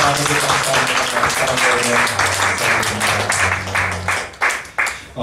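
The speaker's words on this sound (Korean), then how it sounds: "우리 하나님께 영광의 박수 올리겠습니다" A church congregation claps together after a prayer, a loud dense burst of applause under a voice and sustained tones, thinning into separate sharp claps toward the end.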